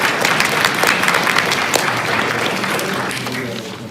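An audience clapping at a public comment meeting on short-term rentals, dense sustained applause filling the room, loud and close, slowly tapering toward the end.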